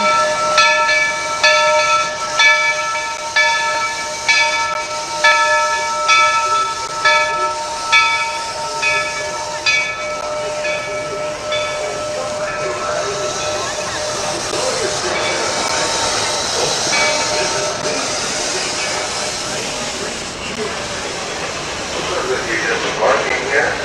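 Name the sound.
train pulling into Disney park station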